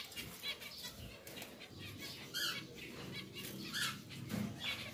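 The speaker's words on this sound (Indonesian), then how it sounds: "sepasang burung zebra finch speed sudah memasuki kandang baru mereka." A pair of pied zebra finches flutter in a new cage, making soft, intermittent wing flaps and rustles at low volume, with no voices.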